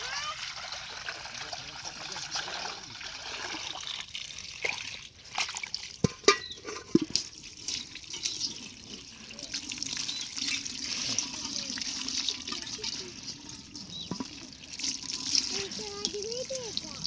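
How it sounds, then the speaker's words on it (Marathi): Water runs steadily from a hose or pipe to water plants in a yard, a continuous trickling splash heard close throughout while people talk over it and a few knocks and clatters break in midway. "इकडे सोडले झाडांना पाणी"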